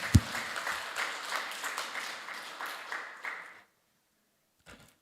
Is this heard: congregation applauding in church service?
yes